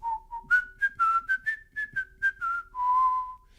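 A person whistles a commercial jingle melody alone, a clear, bright run of about a dozen short notes ending on one long held tone, close and steady with no talk.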